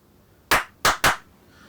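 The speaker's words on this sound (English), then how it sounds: "3 claps to sync video and audio" Three sharp hand claps, one then a quick pair, snap out close and loud in a quiet room during a camera setup to sync video and audio.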